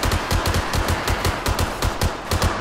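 Automatic turret in the survival game 7 Days To Die firing a steady stream of rapid, evenly spaced bursts, loud and continuous throughout with no talking.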